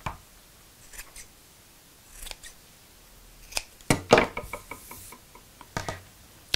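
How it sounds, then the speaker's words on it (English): Scissors snip across the corners of a sewn fabric bag, a handful of sharp, crisp cuts spaced irregularly and close up in an otherwise quiet room. "I'm just going to cut across the corners to cut down on the bulk"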